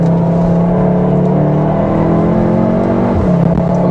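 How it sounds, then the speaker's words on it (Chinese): A 2023 Volkswagen Tiguan R accelerates hard through a corner, its engine heard from inside as a loud, steady droning whir that climbs in pitch, then dips and picks up again near the end. "我们现在在弯中故意在不对的时间踩油门"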